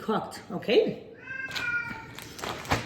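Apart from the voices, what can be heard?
cat meowing in the background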